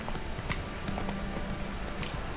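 Roach, the horse in The Witcher 3, gallops steadily in a fast, even clip-clop of hooves that carries through the whole span, close and fairly loud over a low ambient bed.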